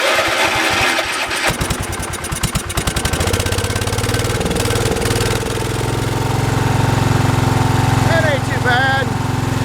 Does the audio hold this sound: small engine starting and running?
yes